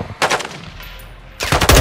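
Sniper rifle fire in Call of Duty: Modern Warfare II during a prison break mission, two loud close sharp shots separated by a brief quiet gap, each with a ringing tail.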